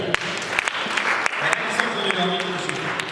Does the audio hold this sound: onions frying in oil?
no